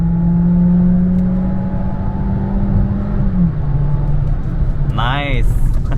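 Engine of a Hyundai Verna or Skoda Slavia building revs while the car drives, a steady low drone that climbs and then settles under ongoing talk, with a brief whirring sweep near the end.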